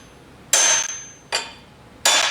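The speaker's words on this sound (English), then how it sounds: "You do have to hit it with a hammer to get the molecules to move." A hammer strikes a steel engine crankshaft three times to straighten it, each sharp metallic blow ringing briefly and close in an otherwise quiet room.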